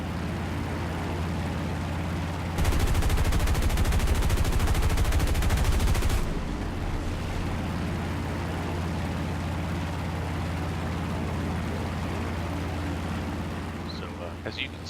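Aircraft wing guns in the War Thunder video game fire in one continuous loud burst lasting a few seconds, over a steady droning engine that carries on after the shooting stops.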